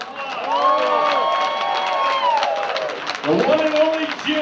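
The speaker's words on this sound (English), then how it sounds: "how about a big round of applause?" Applause for an inductee at a sports hall of fame enshrinement banquet, a crowd clapping steadily while a voice speaks over it and cheers rise near the end.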